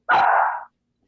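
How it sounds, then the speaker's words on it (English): A single dog bark, loud and close, one short sharp burst standing alone with silence after it. "I'm hearing barking."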